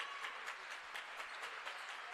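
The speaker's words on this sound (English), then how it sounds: "you can hear the crowd starting to clap just a little bit more" Spectators clapping at a men's college volleyball match, a quiet, distant patter of many hands in a loose, steady rhythm filling the gym.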